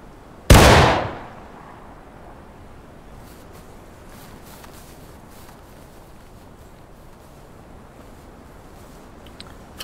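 A single loud musket shot rings out in War of Rights, a sharp blast near the start that decays over about a second, followed by a long stretch of quiet ambient background.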